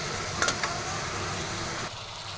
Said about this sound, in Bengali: এই জন্য শুটকি আর পেঁয়াজ ছেড়ে দিয়েছি। ভাজা হচ্ছে